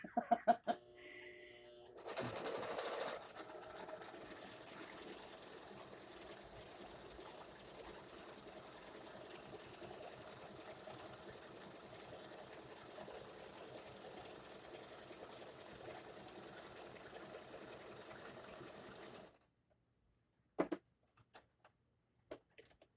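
A sewing machine runs in one long continuous steady whir of rapid stitching for most of the clip, then stops abruptly, leaving a few faint clicks and handling sounds.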